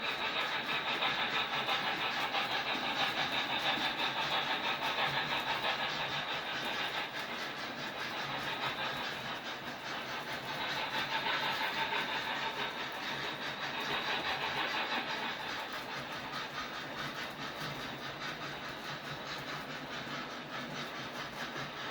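A double-headed model steam locomotive with TCS sound decoders hauls an ore train on a layout, giving a continuous rhythmic chuffing that rises and falls in intensity as the engines work harder, steady and fairly close, with no talk.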